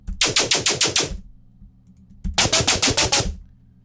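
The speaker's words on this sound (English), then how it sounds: "that's like a dubstep bass sound that just chopped up and added some vocoder" Two bursts of loud, rapid, evenly chopped dubstep bass stabs with a buzzy vocoder tone, separated by a short gap of near silence.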